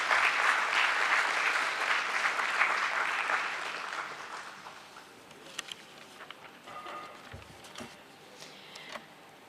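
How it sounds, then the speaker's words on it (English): Applause fills a stock exchange listing ceremony hall, loud and dense for about four seconds, then thins to scattered claps and faint room noise. "Once again, a round of applause for the brand."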